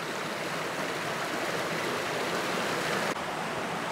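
A stream near a waterfall on a hiking trail by Baden-Baden rushes steadily in a continuous broadband wash, heard close and even throughout.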